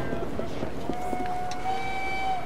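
Train noise in the Victorian London of Assassin's Creed Syndicate: a steady rumbling carriage bed with a sustained whistle-like tone drawn out across it, with someone talking over it.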